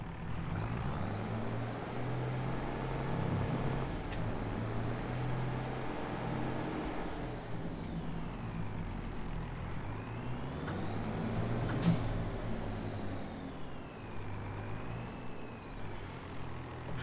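A Mercedes tractor in a farming video game runs with a steady, droning engine that holds a constant rumble while its pitch slowly rises and falls, alone without talk.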